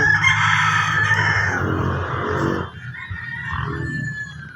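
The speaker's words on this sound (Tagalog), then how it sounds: "Yung mga manok at nagkakantahan, pagpasensya nyo na mga idol." Several roosters crowing loudly nearby, long drawn-out calls overlapping one another, with no talking.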